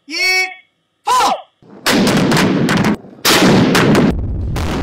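Artillery guns fire live rounds during a combined day-and-night military drill: after a couple of short vocal calls, several loud, booming blasts follow in quick succession, each with a rolling, rumbling tail.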